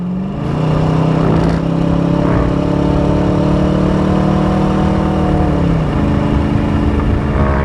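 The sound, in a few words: V8 car exhaust accelerating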